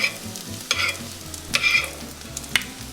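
Tempeh crab cakes cooking in a pan, a soft low sizzle with a few sharper scraping or stirring clicks at intervals, close and fairly quiet, with no talking.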